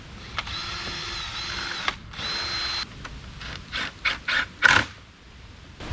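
A power drill whirs in several short bursts, first longer runs then quick pulses, as screws are driven in close by while mounting a storm door on a windy day.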